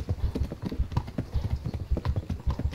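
A horse gallops in Kingdom Come: Deliverance, its hooves pounding in a quick, steady rhythm that sounds close and clear, with no talk over it.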